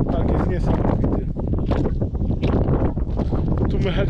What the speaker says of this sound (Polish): Wiatr duje.